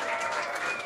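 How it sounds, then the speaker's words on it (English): Applause from an audience welcoming a volunteer named Anna at a design talk, a dense steady wash of clapping throughout, fairly faint and continuous. "Can everybody please give Anna a round of applause?"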